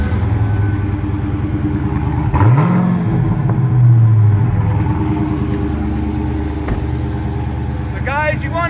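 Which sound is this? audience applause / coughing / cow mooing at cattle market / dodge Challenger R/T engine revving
dodge Challenger R/T engine revving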